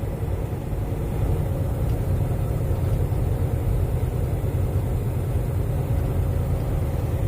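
A big truck passes on a snowy road, a steady low rumble of heavy engine and tire noise lasting several seconds, fairly constant and moderately loud, with no talk.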